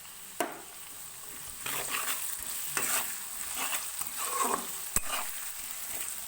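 A spice paste with slit green chilies and ginger paste is sautéed in a pan, giving a faint soft sizzle with gentle stirring scrapes and a couple of sharp utensil clicks, close and quiet, with no voices.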